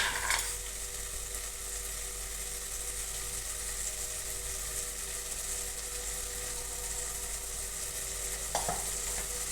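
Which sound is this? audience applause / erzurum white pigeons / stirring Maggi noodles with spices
stirring Maggi noodles with spices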